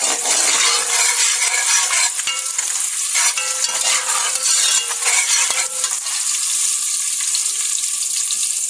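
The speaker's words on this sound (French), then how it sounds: "Lorsque les oignons sont dorés, comme ça, nous pouvons mettre la tomate." Frying onions sizzling in a pan as tomato is added, a steady close crackle with light stirring and a few clinks, no talking.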